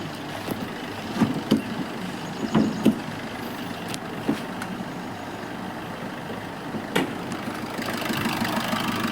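A 2019 Maruti Swift Dzire idling, a steady low engine hum with soft periodic ticks and thumps, close and even throughout with no talk.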